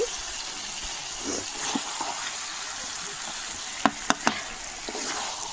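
Potatoes sizzle steadily as they fry in a pan for mutton curry, cooked without a pressure cooker, with a few sharp clinks from stirring near the end; close and continuous, with no talk over it.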